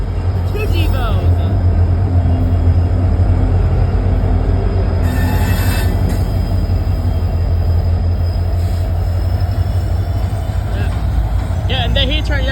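A freight train hauled by two GE Evolution locomotives rolls past near Fosterville, Tennessee, with loud continuous low rumble and wheel noise throughout, brief higher squeals, and people talking over it.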